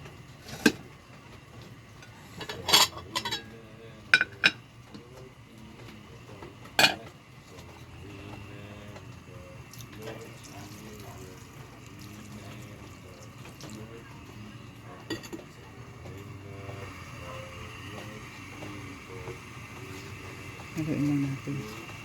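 Pansit bato with canton is stirred in a pot. A few sharp metallic clanks of a utensil against the pot stand out over quiet kitchen hiss and low background rumble.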